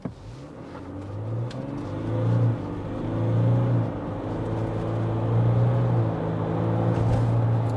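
A 2026 Ford Ranger MS-RT truck accelerates with a steady low engine drone that rises in pitch through several gear changes, heard from inside the cab at moderate loudness with no talk.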